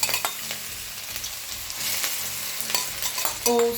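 Onions sautéing in hot sunflower oil in a pan, a loud, steady close sizzle with a few stirring scrapes, rising briefly near the end, with no talk.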